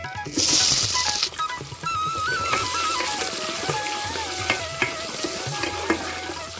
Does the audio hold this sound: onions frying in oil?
yes